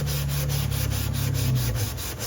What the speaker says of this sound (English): bend the sponge around it like that and then sand it like this